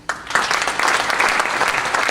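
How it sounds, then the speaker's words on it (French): Applause for Montélimar sports club athletes at a promotion ceremony, a crowd breaking into clapping that swells quickly and holds steady, loud and close. "Je pense qu'on peut les applaudir."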